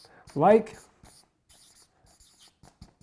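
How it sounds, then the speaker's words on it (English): Faint, scratchy strokes of writing come in short intermittent bursts at a lecture on networking and likability, following a brief vocal sound at the start. "So let's write it down."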